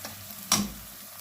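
Onion sizzles faintly in a pan, a soft low hiss marked by one sudden clatter and surge of crackling partway through before it settles back to a quiet fry, with no speech.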